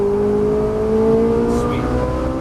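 A Ferrari 458 Italia accelerates on a track, its engine note rising in a steady climbing whine, loud and close, with a brief higher mechanical sound partway through.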